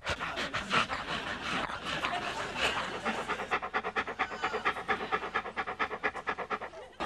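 A dog pants hard and rhythmically close by, the quick breaths running on without pause and growing more regular toward the end.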